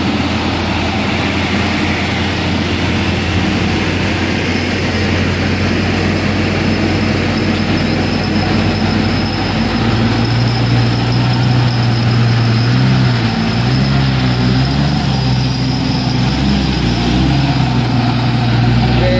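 Heavy truck engines labor loudly and steadily as a Hino tanker tows a Javanese truck up a steep incline, a continuous droning rumble with a wavering engine tone rising through the later part, no talking.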